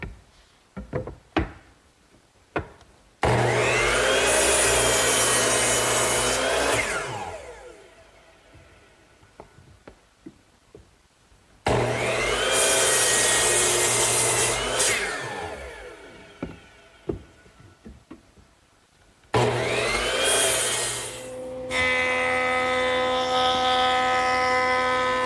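A table saw rips thick wood stock into coffee-table legs in a workshop, with three loud sustained cutting passes, each spinning down to quiet knocks and handling noises between them.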